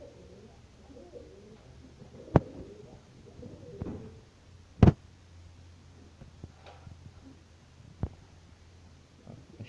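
Pigeons coo softly around scattered food outdoors, with low, faint calls under a quiet background, broken by a few sharp, loud clicks or taps.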